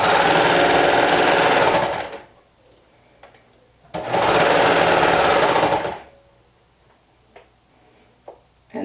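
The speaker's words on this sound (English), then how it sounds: "then stitch with 1/4 inch seam allowance" A sewing machine stitches a sleeve seam with a 1/4 inch seam allowance in two loud, steady bursts of about two seconds each. Quiet gaps between them hold faint ticks and handling sounds.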